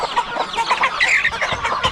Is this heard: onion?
no